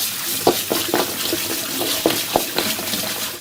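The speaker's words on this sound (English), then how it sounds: "I do recommend that you wash the ginger because it may contain dirt" Tap water runs loud and close into a sink while fresh ginger is rinsed under it, a steady splashing rush broken by irregular spatters and gurgles as the root moves through the stream.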